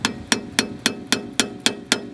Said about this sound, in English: Hammer that in, which spreads that pinch bolt out.